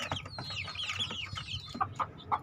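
Crossbreed chickens in a breeding pen, a close mix of soft clucks and high peeping, with a few sharper calls near the end.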